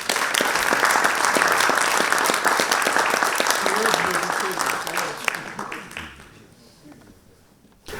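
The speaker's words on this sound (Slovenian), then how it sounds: "prosim en aplavz za našega bivšega predsednika" A crowd at a Slovenian Red Cross volunteer and blood donor award ceremony in Kranj applauds their former president, with loud, dense clapping that tapers off over the last few seconds while a voice speaks beneath it.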